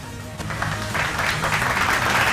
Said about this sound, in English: A round of applause. Clap for yourselves, please.